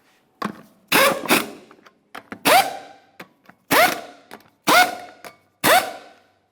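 A ratchet works on the 19mm lug nuts of a Jeep Wrangler front wheel, producing a series of short, loud metallic bursts with brief pauses between them, close by and with no talk.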